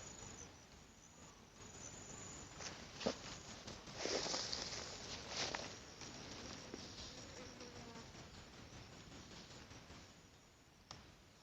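Insects buzz and chirp steadily in a grassy field beside a tomato patch and cattle pasture, a continuous high drone with a few louder passing buzzes near the middle.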